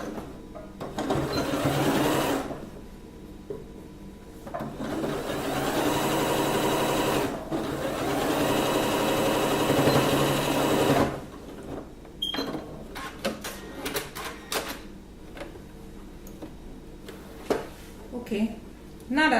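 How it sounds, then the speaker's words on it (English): A sewing machine stitches the band onto a wrap skirt, whirring steadily in two long runs before stopping, followed by scattered handling clicks and knocks nearby. "I'm going to start from this end and then stitch it all the way down here."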